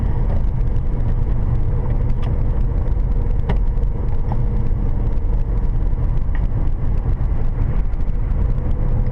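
An automatic car driving along a road at about 40 km/h, heard from inside as a loud, steady low engine and road rumble with a few faint clicks and knocks, no talking.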